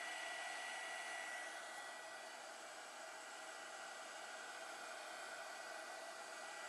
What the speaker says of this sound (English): And that's what the heat gun is doing.